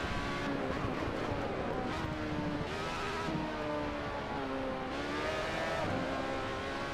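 Race car engine in the Assetto Corsa racing game, whining and revving with rising and falling pitch sweeps as gears shift, fairly faint and steady, with no talk.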